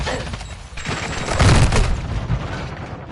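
Gunfire in Modern Warfare 2, a loud burst of rapid shots with booming thumps peaking midway, close and harsh, with no voices over it.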